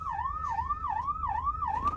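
The second tone of an Embassy hooter siren on a Mahindra Thar plays as a fast, repeating up-and-down yelp, about five cycles, loud and close over a faint low idle rumble.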